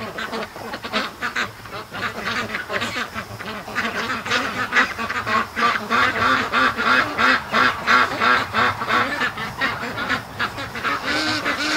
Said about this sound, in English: They're all quacking,